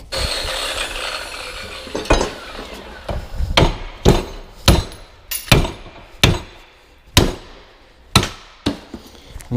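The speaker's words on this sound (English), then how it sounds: "What you want to do is get a hammer and try and knock it off." Repeated hammer blows on metal, about ten sharp strikes at an irregular, quickening pace, knocking a suspension bush off a Ford Focus ST wishbone, close by, with faint workshop clatter between them.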